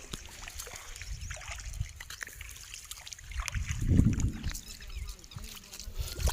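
Irrigation water trickling and sloshing through a field channel on a farm, faint close gurgles and splashes with a fuller swell midway, over quiet outdoor background.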